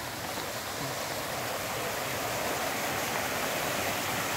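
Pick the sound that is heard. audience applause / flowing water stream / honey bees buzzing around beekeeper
flowing water stream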